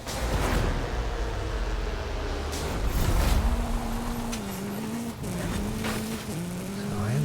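A car driving in a racing video game, an engine droning steadily with rising and falling revs and gear shifts, tires squealing in places, loud and continuous with no talking.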